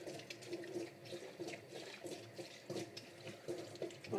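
Cold water runs steadily from a tap over a pet water bottle during rinsing, a soft continuous splashing and trickle at low level with no voices.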